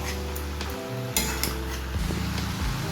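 Peas being stirred into chicken keema in a pan, with a spatula scraping and clattering against the metal over steady sizzling, loud and close, with several sharp knocks in the middle.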